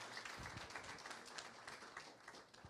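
Applause from a gala audience at a teacher of the year award ceremony, a steady wash of clapping hands that carries on evenly for a few seconds, fairly faint and distant, with no voices over it.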